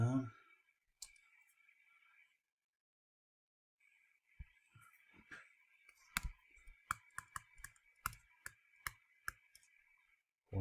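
Calculator buttons are pressed during a math lesson: sharp, close clicks, sparse at first, then a quick irregular flurry of taps, with a faint electronic tone running underneath at times.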